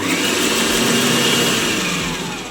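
A Tefal 7-in-1 electric meat grinder with a slicing attachment cuts carrots, giving a steady, loud motor whir with a rough grinding texture that eases slightly near the end, no voices.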